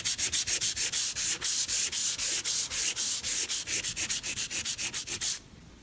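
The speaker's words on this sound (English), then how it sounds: "depending on how much sanding I do, I'll even get right back to the pine look" Rapid back-and-forth hand sanding of a painted IKEA Billy pine bookcase, about thirty even rasping strokes in steady rhythm, close and loud, stopping abruptly near the end with no talk.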